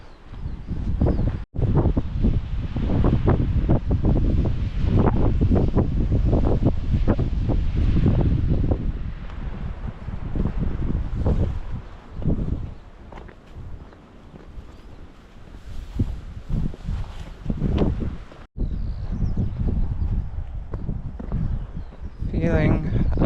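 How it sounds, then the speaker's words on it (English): Strong wind on a coastal walk near Port Isaac, Cornwall buffets the microphone in heavy, roaring gusts that ease briefly partway through before building again. "Has got awfully windy today."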